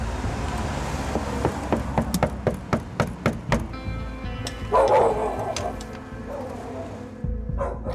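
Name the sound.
large dogs barking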